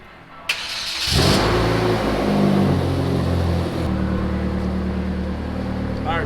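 A Hyundai Genesis Coupe engine starting after a clutch install: a short click, the starter cranking, then the engine catching with a rev and settling into a steady, loud idle nearby.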